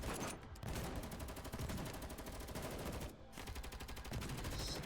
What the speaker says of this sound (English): Are those gunshots?